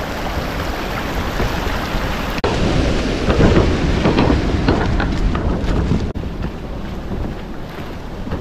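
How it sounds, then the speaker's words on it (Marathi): Heavy monsoon rain pours steadily on a trek through paddy fields toward Ratangad, a loud, constant hiss with wind rumble and gusts against the microphone, with no talking. "पाऊस चांगला सुरू आहे"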